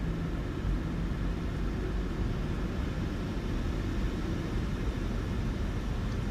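Jet engines of a PMDG Boeing 737 in a flight simulator spool up for takeoff on the runway, giving a steady, loud broadband roar with deep rumble that holds constant throughout.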